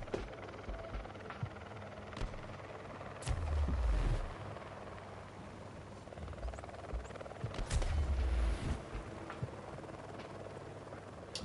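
A helicopter in the video game Hitman: Sniper Assassin, a throbbing rotor drone under game ambience, with two louder heavy bursts like gunshots or impacts and no talk.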